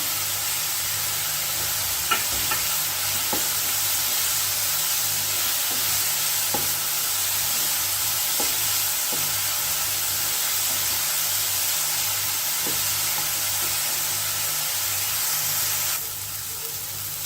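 Food sizzles steadily in a pan over a medium flame while a ladle stirs it, the continuous frying hiss broken by occasional light scrapes and clicks of the ladle as a Havyaka Brahmin summer dish cooks.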